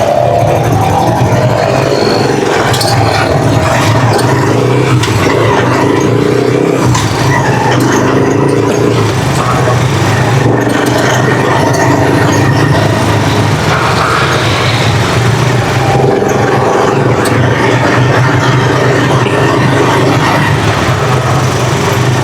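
Motor tricycle engines in busy city traffic in Tuguegarao, a loud, continuous rumble with revving and passing vehicles, occasional squeals and horn-like tones, heard from close by in the street.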